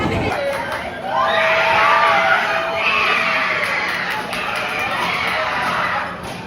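Crowd cheering and shouting on an amusement park ride at Carowinds, a continuous mix of excited yells and screams rising and falling, fairly close and loud.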